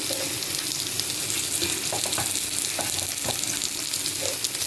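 Chopped onion and garlic fry in oil for a spinach and taki fish dish, a dense, steady sizzle close by with a few soft stirring knocks.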